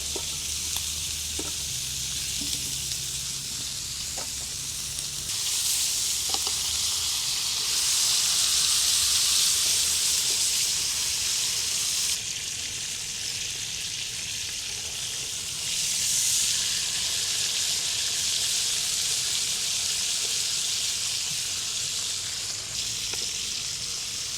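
Food sizzling in a pan at a winter camp as rosemary is tossed in, a loud continuous hiss that swells and eases in waves, with a few soft clinks early on and no talking.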